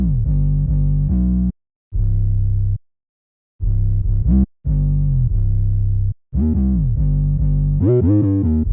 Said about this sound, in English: If you don't already know, this is my favorite part, the 808.